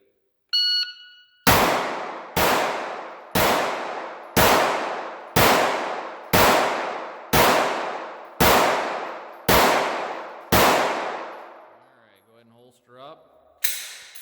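Pistol fired at a range for ten rounds in ten seconds: ten loud sharp shots at a steady rhythm about one per second, each with a short ringing tail, preceded by a brief start tone.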